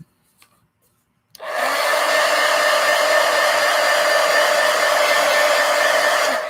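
A hair dryer blows steadily over a watercolor painting, switching on abruptly after a moment of near silence and holding a loud, even whooshing whine close by to the end.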